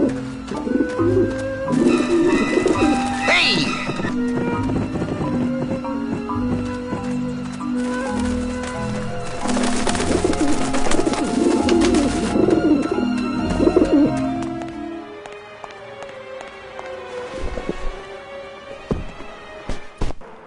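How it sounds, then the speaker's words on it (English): Pigeons coo on a rooftop in the video game Grim Fandango, soft repeated coos over game music and ambience, with a brief shout. "At least I got to clear the pigeons from the roof of my memories."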